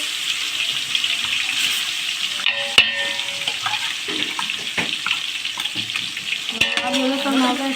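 Cumin and ginger-garlic paste sizzle steadily in hot oil for pav bhaji, a dense, continuous frying hiss with occasional utensil clinks and a sharp clatter near the middle, close and fairly loud with no talking.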